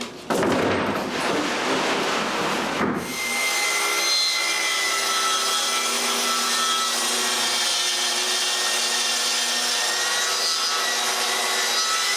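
A saw cuts wooden panels for a small workbench used to build bamboo bicycles, a loud steady rasping stroke that runs continuously and close up, with a rougher burst at the start.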